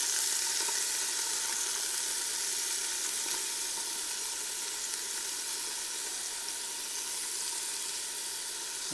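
Ground beef sizzling and browning in the pot of a pressure cooker as it is broken apart, a steady, moderately quiet frying hiss that carries on without a pause and with no talk over it.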